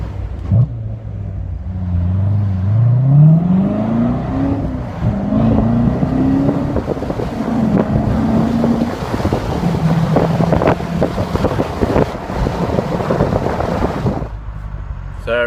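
A C7 Corvette with the top down revs up through the gears on an acceleration run, engine pitch climbing in rising sweeps under heavy wind buffeting, with a voice talking briefly over it.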